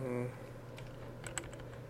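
Light clicks of bracket keys being pressed on a computer keyboard while resizing a digital brush, a few soft taps just after a brief spoken sound, quiet under steady room noise.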